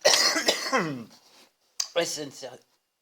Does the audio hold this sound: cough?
yes